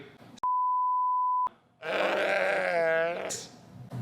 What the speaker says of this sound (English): you should go back and bleep all that stuff